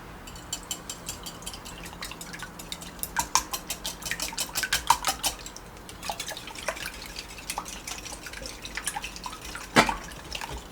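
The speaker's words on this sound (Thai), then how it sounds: "ต่อยไข่เสร็จแล้วนะครับ ตอนนี้ เดี๋ยวเราตีก่อนเลย" Cracked eggs for steamed egg with shrimp being beaten in a bowl with a hand beater, making bursts of quick rattling clicks and light wet tapping that rise and fade, close and alone.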